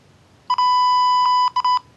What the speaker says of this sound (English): So now it beeps when I'm in zone.